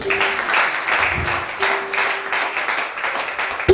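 A church congregation claps and cheers throughout a Gabonese teaching service, broad steady applause with a constant pitched tone running through it and a loud burst at the very end.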